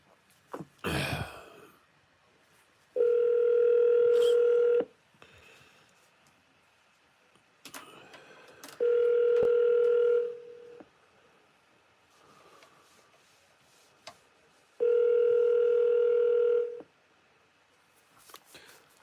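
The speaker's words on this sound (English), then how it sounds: "Alexa, call Double K" A smart speaker places an outgoing phone call, giving three long, evenly spaced ringback tones separated by quiet gaps, with faint background noise between them.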